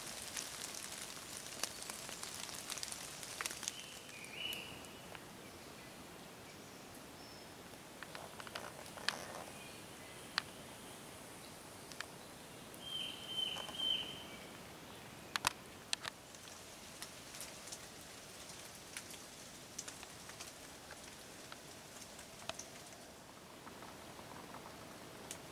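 Light rain pattering near a cave in misty woods, faint and irregular drips and soft taps over a quiet background, with a few sharper nearby drops.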